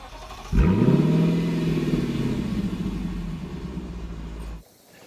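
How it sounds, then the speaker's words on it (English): New Nissan Qashqai car engine starting up, a sudden low rumble that settles into a steady idle drone heard close, then cuts off abruptly near the end. "this is the new Nissan Qashqai"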